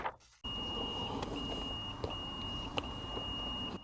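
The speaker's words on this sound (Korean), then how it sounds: "통전되는 소리 들리시죠?" A BMW E93 328i driver's seat module clicks as electrical current reaches it after fuse box repair work: three or four sharp, faint ticks spaced about a second apart over a steady hum and a thin high whine.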